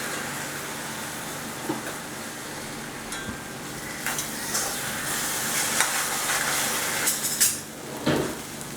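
Moong dal kozhukattai filling being stirred in ghee in a pan, a steady soft sizzle under repeated scraping and clinking of a spoon against the metal, close and moderately quiet with no talk.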